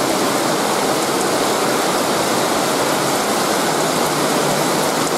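Rain shower in a dry season falling on a yard, a dense, even hiss of steady downpour filling the whole stretch without pause, close and loud, with no voices.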